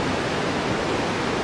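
Nooksack Falls pours in a steady, loud, broadband rush of falling water, constant and unbroken, with no voices over it.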